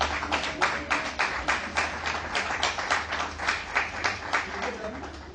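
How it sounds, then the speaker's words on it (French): Wedding guests applaud the witnesses with a brisk, fairly even run of many claps, moderately near, while voices talk underneath. "Applaudissez pour les témoins."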